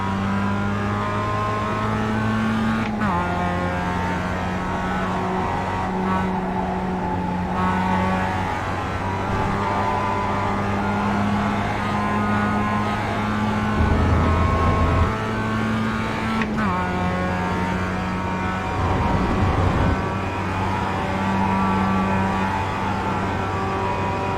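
A Mazda MX-5 race car at Road America in the iRacing sim gives a steady, loud engine drone that climbs in pitch and drops sharply at gear changes. Voices talk underneath it.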